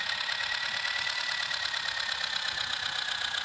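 A red Massey tractor engine idles in a farming simulator game, a steady, unbroken mechanical drone with a slight knocking texture, heard alone at moderate level for the whole stretch.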